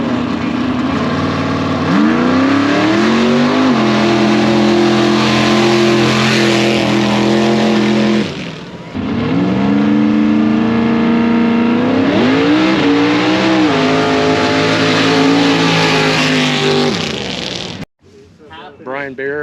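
Mud bog racing trucks roaring loud and close, the engines revving and climbing in pitch in two long sustained runs separated by a brief lull, then cutting off abruptly near the end.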